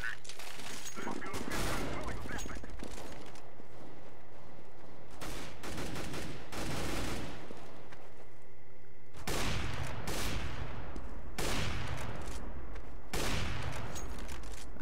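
P250 pistol shots in CS:GO ring out in several sharp, loud bursts spread across the stretch, with brief lulls between volleys and other game noise filling the gaps.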